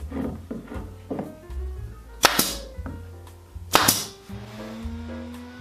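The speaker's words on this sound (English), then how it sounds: "just pinning the trays together with my pin gun" Pin gun firing into wooden trays, two sharp, loud cracks standing out among softer knocks and handling of the wood nearby, with no voices.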